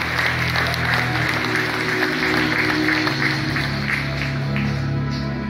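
A large stadium crowd at a worship event claps steadily, dense applause sustained for several seconds with a faint murmur of voices underneath.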